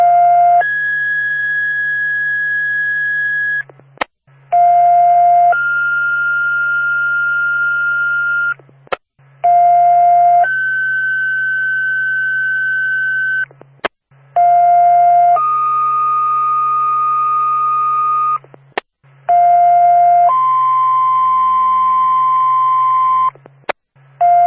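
Fire department dispatch alert tones for a two-alarm structure fire in Madison, New Hampshire: loud sustained paired radio tones repeat in five long blocks, each split by a brief gap and click, over a steady low hum.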